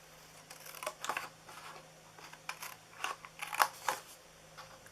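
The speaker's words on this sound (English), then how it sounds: "that's why I'm using my little snips" Small snips cut through a paper box for a festive see-through treat box, making a few crisp, close snipping clicks spaced irregularly with quiet pauses between.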